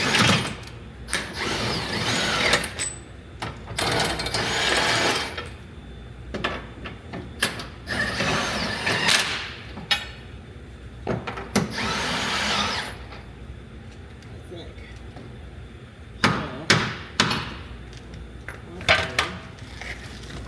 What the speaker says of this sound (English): then we'll go ahead and ream the rest